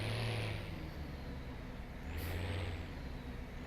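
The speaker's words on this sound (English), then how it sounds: "Oh, love the sound on this tractor." A tractor engine in Farming Simulator 17, heard as a steady low drone, quiet and continuous, with a brief higher hiss partway through and no talking.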